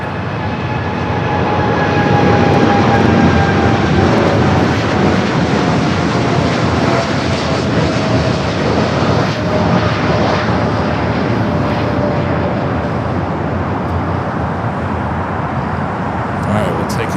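A heavy jet landing on runway 25 left at LAX makes a loud, continuous roar with a slowly descending engine whine, sustained throughout without pause.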